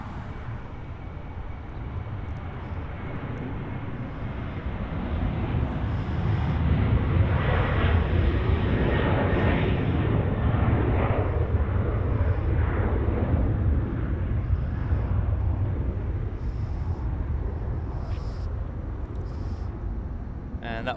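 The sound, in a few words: airliner departing from Los Angeles airport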